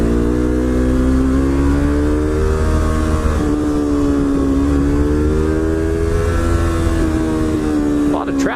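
Yamaha R3 motorcycle decelerating under engine braking, a steady loud engine drone with falling and rising pitch over about eight seconds, dipping near the end.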